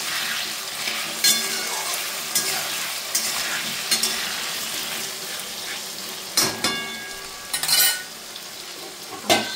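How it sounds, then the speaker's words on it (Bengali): Potatoes fry in a pan, a steady bright sizzle running throughout, broken by several louder scrapes and clinks as a utensil stirs them against the metal. "এবার আলুটাকে ভাজছি।"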